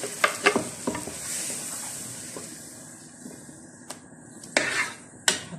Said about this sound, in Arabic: ده البصل بتاعنا اهو، هننزل عليه الطماطم، البصل بالبهارات كلها